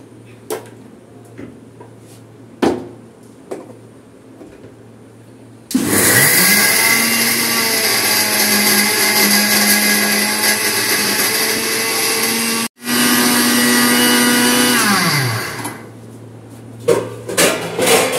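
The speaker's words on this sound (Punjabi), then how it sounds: "ਤੁਸੀਂ ਆਪਣੇ ਜਾਰ ਵਿੱਚ ਇਹਨੂੰ ਗ੍ਰਾਇੰਡ ਕਰ ਸਕਦੇ ਹੋ" A mixer grinder jar whirs loudly as it grinds panjiri into powder, starting abruptly, running steadily for about seven seconds, stopping briefly, then running again before winding down, with quiet kitchen sounds before and after.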